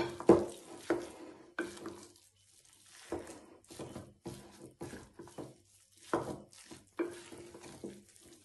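A spoon stirs a tomato stuffing mixture in a bowl in irregular bursts of scraping and soft clattering, separated by brief quiet pauses, close and fairly quiet.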